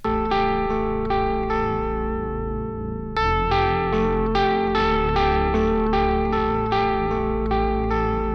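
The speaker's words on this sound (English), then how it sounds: "I'm going to use this Warble plugin because this is great for adding some of that vintage analog coloring" Music processed through a Warble tape-emulation plugin, adding wow and flutter in a vintage analog style for a metal track: sustained layered tones with a subtle wavering pitch and a sudden loud chord hit midway, dense and continuous with no voices.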